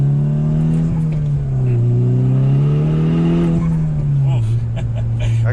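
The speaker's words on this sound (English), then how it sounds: "We have a carbon fiber air intake on this one, and that makes some good turbo noises." A manual turbocharged car with a carbon fiber air intake revs, its engine droning steadily and rising and falling in pitch, loud and close, with someone talking over it.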